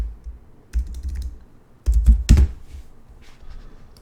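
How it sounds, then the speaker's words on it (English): Typing on a computer keyboard: short, uneven bursts of clacking keystrokes, close and moderately loud, with quiet pauses between the flurries. "we're just going to type in the word Joe Rogan."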